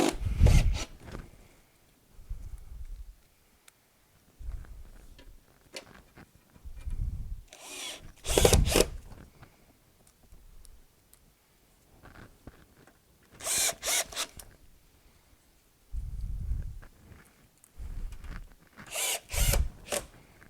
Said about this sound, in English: we're going to run our 8 screws into the crossbeam